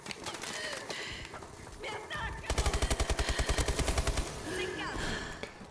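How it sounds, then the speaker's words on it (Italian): Gunfire from the Call of Duty: Advanced Warfare video game, with scattered shots followed by a fast, loud burst of automatic fire lasting over a second, mixed with game effects and players talking. "Poi spari tu e penso che stiano sparando a me."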